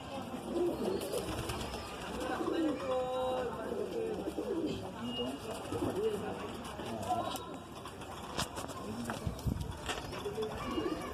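Pigeons with golden eyes coo repeatedly in a loft in Aurangabad, soft throaty calls layered under someone talking steadily nearby, with faint rustles and shuffling throughout.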